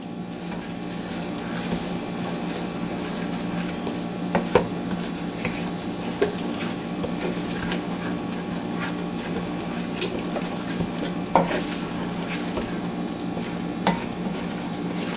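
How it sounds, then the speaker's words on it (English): Cornbread batter being stirred in a bowl for country corn bread, a steady soft scraping and sloshing with occasional light clinks of utensil on the bowl, close and continuous with no talking. "So we'll give this a mix up."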